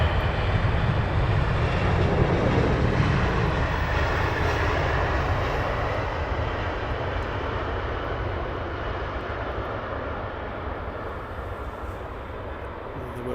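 Airliner engines spooling up to takeoff thrust at Heathrow Airport, a loud, steady jet roar with a broad rumble that holds continuously and eases slightly toward the end, with no voices.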